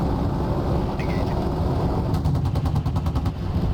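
An Apache AH-64D helicopter's cannon firing at a tank in DCS World, a rapid burst of evenly spaced shots in the second half over constant rotor and engine rumble.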